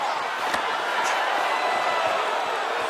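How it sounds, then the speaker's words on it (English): Arena crowd at an MMA fight roars steadily as fighters get back to their feet, a broad continuous swell of cheering with scattered sharp claps and shouts, fairly loud and sustained throughout. "big pop from the crowd as they get back to their feet"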